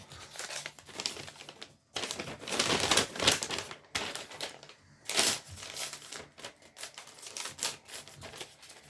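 Bursts of crinkling and rustling of plastic and paper Lego bags being handled, loud and close with brief pauses between handfuls.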